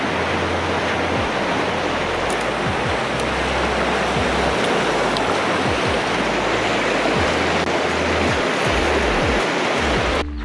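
A flooded river in a Nevada valley rushes loudly and continuously, giving a dense, steady roar of churning water with occasional low thumps of wind or handling and no voices.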